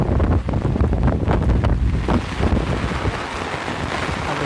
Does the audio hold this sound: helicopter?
no